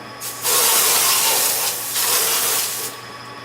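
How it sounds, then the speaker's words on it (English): Broad steady hiss of water spraying from a hose onto a roller mill's tower, swelling louder in bursts with short dips between, close by and with no talking. "Then I hose both the inside and the outside of this tower."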